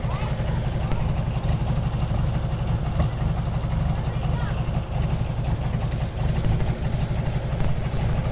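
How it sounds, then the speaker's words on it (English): A cold Porsche 356 Speedster kit car engine idles low and slightly lumpy, a steady close rumble with a throbbing low pulse that runs evenly throughout. "engine's still mostly cold right now, but looks like it idles a little bit low, a little bit lumpy"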